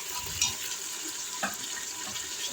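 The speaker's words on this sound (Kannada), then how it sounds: "ಇವಾಗ ಟೊಮೊಟೊ ಹಾಕೋತಾ ಇದ್ದೀನಿ" Tomatoes frying in a pan with occasional stirring, a steady soft sizzle with a couple of brief scraping accents, with no talking.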